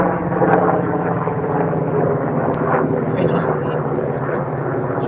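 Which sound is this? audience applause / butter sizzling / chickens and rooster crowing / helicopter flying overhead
helicopter flying overhead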